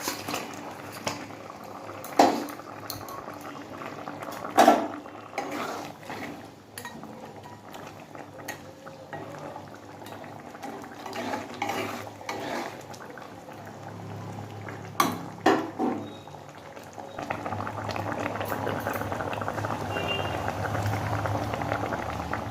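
Tilapia fish curry simmers in a pot with a small amount of water, a continuous soft bubbling and sputtering broken by occasional clinks of a utensil against the pot, growing louder and denser near the end.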